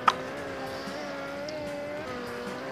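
A motorbike engine in the Real Bike Racing video game holds a steady, high revving drone after a brief sharp onset, with no talking.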